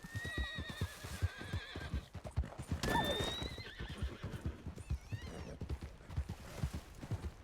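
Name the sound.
horse hooves clip-clopping and neighing in a video game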